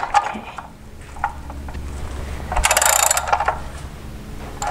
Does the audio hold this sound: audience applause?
no